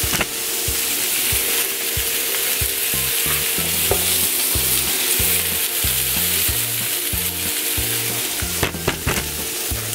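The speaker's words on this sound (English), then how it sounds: "And I'm just gonna saute this for about 5 minutes" Brussels sprouts sautéing in a pan on medium heat with a little salt, a steady close sizzle running throughout with soft stirring scrapes and clacks of a utensil against the pan.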